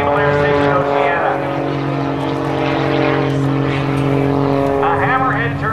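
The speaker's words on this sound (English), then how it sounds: "propeller pulling the Cirrus Extra 300 straight up into the blue skies" A 350-horsepower Extra 300 propeller aerobatic plane climbing straight up at the 2006 NAS Oceana airshow, a loud, steady, droning engine and propeller roar that runs throughout while an announcer talks over it.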